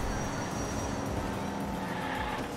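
A toy-style race car in Hot Wheels Unleashed drives with a steady, loud, close engine whine and road roar that stays constant through the short moment.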